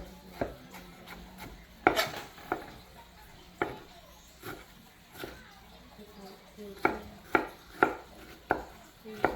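A knife chopping vegetables for pico de gallo on a board, with irregular sharp taps scattered throughout and a quicker run of cuts near the end, under a voice talking.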